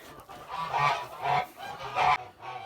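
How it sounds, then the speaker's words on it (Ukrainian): Young Kholmogory gander honking in three loud, nasal calls spaced about half a second apart, close by with no talk. "це гусачок точно"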